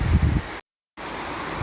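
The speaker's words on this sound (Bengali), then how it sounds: "জানালা বন্ধ করতে পারছি না, এত হাওয়া ছাড়ছে, প্রচুর হাওয়া ছাড়ছে।" Strong wind gusts roar and buffet through a heavy rainstorm, a continuous rushing noise with low rumbling bursts at first, cut by a brief dropout before the steady wash returns.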